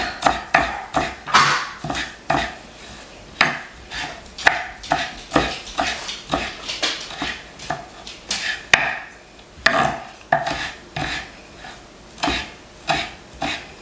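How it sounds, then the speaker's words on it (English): A knife chops fresh garden cilantro on a cutting board, with steady rhythmic thuds in quick runs, close and clear with brief pauses between runs. "so I'm just gonna chop this up"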